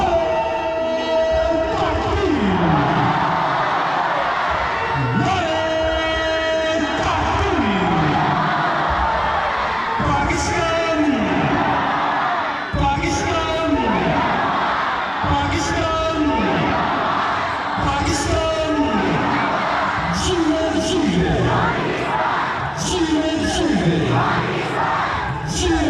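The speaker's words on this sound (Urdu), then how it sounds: "اپنے اپنے نعرے لگ رہے ہیں" A large crowd at the Wagah border ceremony chants slogans, loud and continuous, with rhythmic rising calls and cheers repeating for the whole stretch and no pause.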